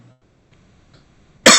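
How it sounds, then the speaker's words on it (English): A single sharp cough bursts out loud and close near the end, after a stretch of near silence. "Sorry, I need to cough right there."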